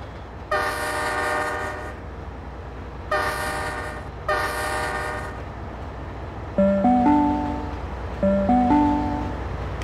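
In the Trainz 12 train simulator game, a train horn sounds three long blasts over the steady rumble of a non-stopping train passing platform 5 at Blacktown, followed by a few shorter, stepped electronic tones.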